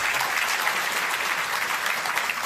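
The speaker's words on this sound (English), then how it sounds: "it's nice that you applaud" Audience at a live public talk breaks into dense, sustained applause, many hands clapping steadily and loudly without letup, heard alone with no talk over it.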